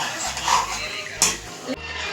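Lemon juice stirred into potato bhaji in a metal pan, a utensil scraping and clinking against the pan with a sharp knock partway through, close and fairly loud.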